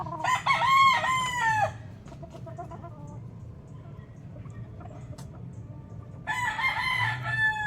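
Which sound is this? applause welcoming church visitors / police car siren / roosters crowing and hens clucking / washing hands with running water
roosters crowing and hens clucking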